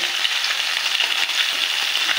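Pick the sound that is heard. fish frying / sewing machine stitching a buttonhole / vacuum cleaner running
fish frying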